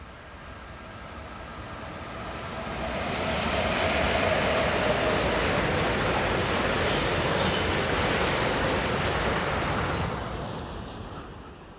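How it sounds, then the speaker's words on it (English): Two BLS Class 425 electric locomotives haul a train of tank wagons on the Wil to Weinfelden line, a steady roar of rolling wheels swelling as the train nears and passes, then fading slightly. "Running around an hour early are these 2 BLS Class 425s, numbers 181 and 171, on tanks bound for the terminal at Bettwiesen"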